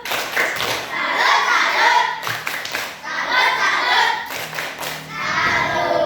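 A primary school class claps in bursts of rhythmic patterned clapping, loud and close, with short pauses between rounds and children's voices mixed in.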